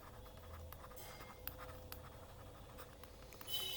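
A pen scratches across a paper page while a budgeting chart for an accounting lesson is written out, giving continuous soft strokes with small taps and a low steady hum underneath.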